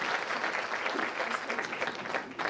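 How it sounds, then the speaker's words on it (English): Applause from a live podcast audience, a dense, steady burst of clapping that fills the room, loud and close, with no talk over it. "Let's give Mika a big round of applause"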